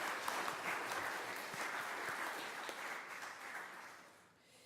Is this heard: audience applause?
yes